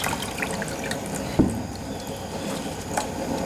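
Washed garden produce, tomatoes and basil for soup, squeezed out by hand so water drips and splashes near a sink, with one louder wet squish partway through and a steady low background.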